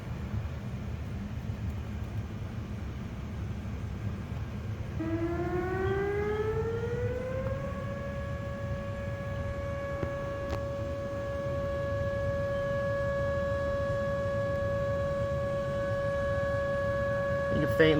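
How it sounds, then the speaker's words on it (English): A distant outdoor tornado warning siren sounds during a test in Hamilton, winding up over a few seconds and then holding a steady, sustained wail over constant background hum. "I heard a siren kick a moment ago."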